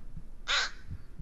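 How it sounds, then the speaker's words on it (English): A single crow caw from the video game Blair Witch, a short loud harsh call standing alone over quiet low rumbling ambience. "I think that little crow in my ear"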